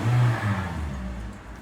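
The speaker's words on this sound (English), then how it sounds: "And it revs up very smoothly" Engine of a 2016 Toyota Corolla revving, a smooth mid-pitched rise that swells early and then settles back toward a steady hum, heard close with no talking.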